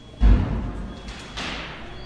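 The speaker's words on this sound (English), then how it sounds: "Now see, there were fireworks in it." Fireworks go off inside a Tesla Cybertruck, one heavy muffled thump followed by softer rumbling bangs, heard from within the vehicle.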